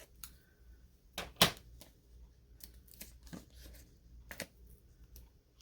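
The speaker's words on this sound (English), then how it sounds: "I'm just going to take my scissors and cut them" Scissors snip through a sheet of leftover mini foam dimensionals at a craft table, giving a few sharp, close cuts with a louder crunchy snip partway through and quieter rustles between.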